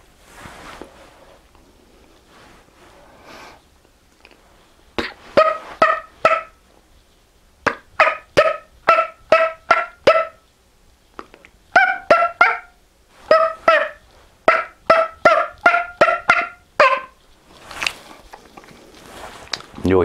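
A turkey mouth call gives rows of short, sharp clucks in quick bursts with short pauses between, loud and close; a voice imitates the turkey, and a little soft noise comes before the first burst.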